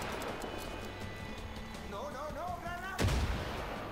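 Fireworks going off in the video game Far Cry 5, a sharp, loud bang that follows a short rising whistle, heard over steady background rumble.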